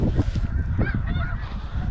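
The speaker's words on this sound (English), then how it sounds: "Just shot my first Alberta blue goose." A blue goose honks during an Alberta waterfowl hunt, giving a few short, nasal honks close by over low rumbling background noise.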